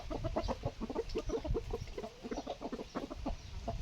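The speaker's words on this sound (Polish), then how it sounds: "Zapraszaj kury, zapraszaj, no, bo nie przyjdą." Backyard hens cluck in a quick, busy series of short calls, fairly close but quiet, with no talk over them.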